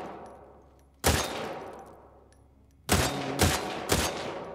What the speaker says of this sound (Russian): Кстати, прикольный автомат.